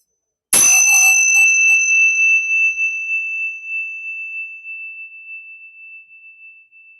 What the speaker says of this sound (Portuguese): Deixa que o som do sino seja um sinal para você relaxar.